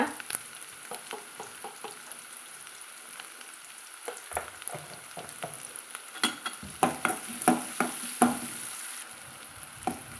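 Steady sizzling of shallots and garlic sautéing in a pan, with spoon stirring and scraping clicks growing busier toward the end; no talking.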